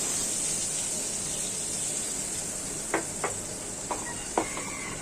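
A paste of onion, ginger, garlic, turmeric, chili and salt fries in a kadai over a gas flame, giving a steady, even sizzle with a few sharp utensil clinks near the end.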